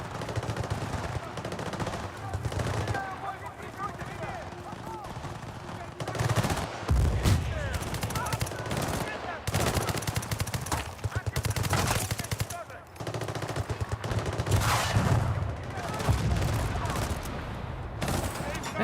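Dense gunfire in the Battlefield 6 multiplayer game: rapid automatic bursts and overlapping shots from several weapons, loud and nearly continuous with brief lulls, while a voice talks over the battle.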